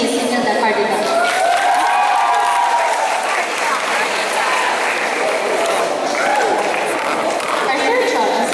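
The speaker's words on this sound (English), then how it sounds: "Let's give a round of applause to Miss Imelda Cardigan" Sustained applause from a large crowd at a school English festival newscasting contest, loud and continuous, with some cheering and chatter blended underneath.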